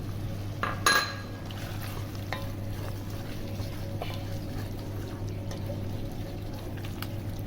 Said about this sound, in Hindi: 3 चम्मच दही शामिल करनी है इसके अंदर